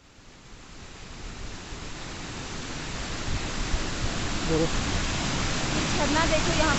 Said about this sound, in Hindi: झरना देखो यहाँ पर।